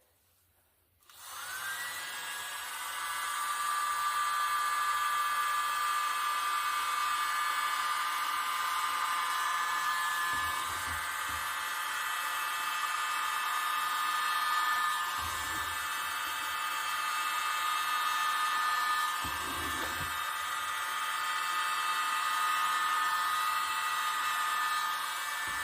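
Hair dryer blowing across poured acrylic paint in a Dutch pour, a steady whooshing whine that starts abruptly and runs on close, with brief low bumps as it shifts.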